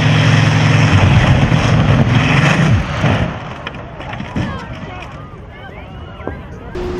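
A Spitfire Mk IX fighter's engine runs at full power, a loud, steady droning roar for about three seconds that then drops to a lower, rougher rumble, with wind buffeting the microphone throughout.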